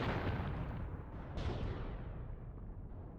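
Machine gun and artillery fire from the Mius Front war game rumble in a dense, continuous barrage at moderate level, with one sharper burst partway through and no voices.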